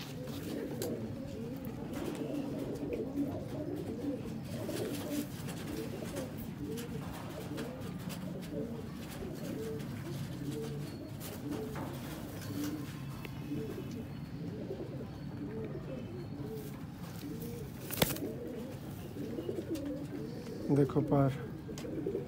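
Indian pigeons cooing steadily in soft, low rolling calls, several birds overlapping close by in a bird-keeping setting, with a voice speaking briefly over them.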